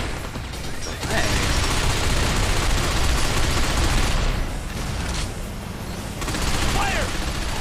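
Loud sustained gunfire rattles in a battle in the third-person shooter Binary Domain: dense automatic bursts with a short lull partway through before the shooting swells again.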